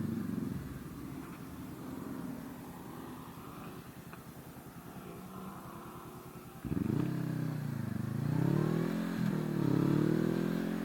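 A Honda CB500F motorcycle on surface city streets, its engine humming steadily at low revs close by, then throttling up with rising and falling pitch as the bike accelerates, with wind noise underneath and no talk.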